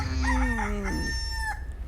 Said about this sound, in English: Where is that rooster when I need it?